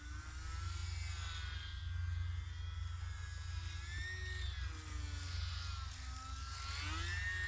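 An E-Flite UMX Carbon Cub SS small electric RC plane flies overhead, its motor whine droning steadily and shifting pitch as it climbs and dives, under a low constant background rumble.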